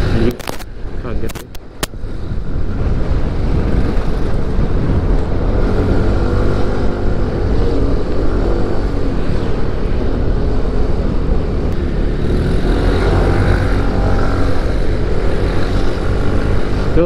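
A Yamaha FreeGo 125 scooter engine pulls hard up the steep Lembah Dewata climb, droning loud and steady with a sustained strain and wind rush after a few sharp clicks at the start.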